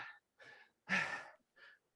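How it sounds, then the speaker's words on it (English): Heavy, breathy inhales and exhales come in four uneven bursts over a laptop's unmuted microphone, the third long and loudest, with silence in between. "Heavy breathing, it's creepy"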